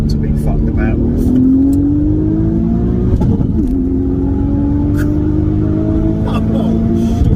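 A B5 Audi RS4 Avant wagon accelerates hard, its engine note climbing, dropping sharply at a gear shift, then climbing again. It is loud and close, with a brief second shift near the end.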